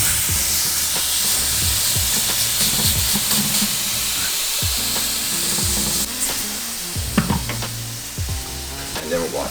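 Strips of tempeh bacon sizzle steadily in a hot pan, a constant loud hiss with occasional clinks and scrapes from handling.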